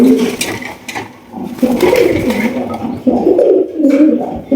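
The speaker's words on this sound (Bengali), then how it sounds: "এখানে আরো একটা গোল্লা কবুতর আছে দেখতে পাচ্ছেন" Gola pigeons coo repeatedly in low, throaty, rolling phrases, several overlapping birds close by, with faint background noise between calls.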